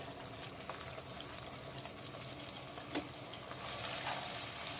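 Coriander powder, cumin powder, salt and black pepper sauté in a pan for a chicken and cauliflower curry, giving a faint, soft sizzle with occasional light stirring ticks that swell slightly near the end.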